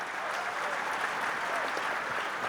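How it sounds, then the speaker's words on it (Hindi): An audience at a Jashn-e-Rekhta literary festival session applauds in sustained, even clapping from a crowd, continuous and fairly full without a break. "इस बात पे जोरदार ताली"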